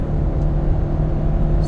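A 2021 AWD Ford Police Interceptor Utility with a 3.3L engine is held in low gear at high RPM, giving a steady, loud low hum with a constant tone over a short stretch.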